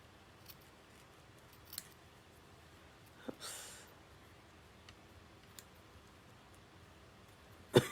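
Scissors trimming cardstock for a handmade card, giving a few quiet, sparse snips and clicks spread across a hushed tabletop setting, with one brief sliding cut and a sharper snip at the end.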